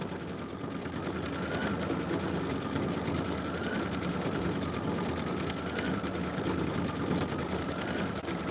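A Kimberbell quilt embroidery machine stitches quickly and steadily, a continuous buzzing whir with a faint high whine that holds evenly throughout, loud and close with no one speaking.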